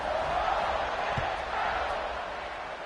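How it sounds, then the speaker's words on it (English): Football stadium crowd buzzing after a score, a steady distant roar of many voices that holds for the whole clip with no single standout sound. "this crowd is buzzing after that last score"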